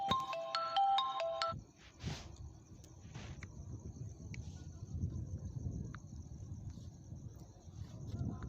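A mobile phone ringtone plays a short, bright electronic melody for about a second and a half, then cuts off, leaving quiet outdoor ambience with faint insect chirps.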